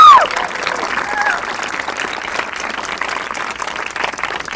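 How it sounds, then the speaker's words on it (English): Audience applause at a graduation ceremony for a firefighter training program, a steady wash of many hands clapping at moderate loudness that opens with a brief louder burst. "that absolutely deserves a round of applause"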